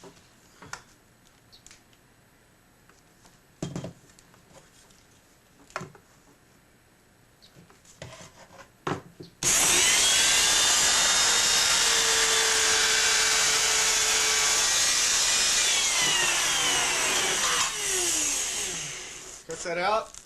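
Power tool cutting hinge grooves into a model airplane elevator, likely balsa wood, starting suddenly about halfway through as a loud sustained whine that varies in pitch and ends with a tapering drop; faint handling noises come before it.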